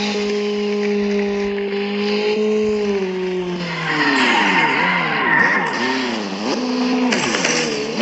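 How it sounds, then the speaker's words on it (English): Simulated car engine from a driving video game, holding a steady drone before revving up and down in repeated rising and falling sweeps, loud and close with no talking over it. "Listen to this engine."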